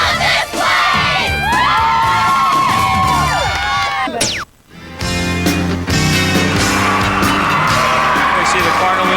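A lively high school basketball playoff crowd at Cardinal Newman versus Montgomery, a continuous loud roar of cheering and shouting with whistles, squeaks and a brief dip in the middle, people talking throughout.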